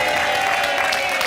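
Studio audience of a TV game show applauds hard for departing champions, a dense, loud, continuous wash of clapping filling the whole moment.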